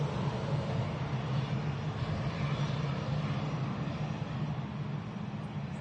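An Airbus A319 airliner at Manchester Airport gives a steady, broad jet-engine roar that holds at a fairly even level from a moderate distance, with no talking.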